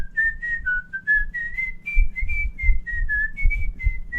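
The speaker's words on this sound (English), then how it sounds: "All right, enough whistling." A person whistles a lilting, wandering tune, notes gliding up and down continuously for several seconds, close and clear.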